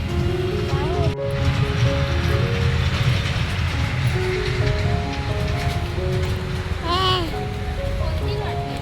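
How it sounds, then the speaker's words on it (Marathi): A small toy ride train runs through a garden with a steady rolling rumble, a short horn-like tone near the end, and children and adults talking over it. "झिकझिक गाडी आली. झिकझिक गाडी आली."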